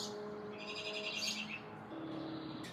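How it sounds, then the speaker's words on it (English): An outdoor bird near a house under bathroom renovation gives a repeated, clear chirping call, moderately close, over a faint steady hum with some noise in the background. "That bird is annoying."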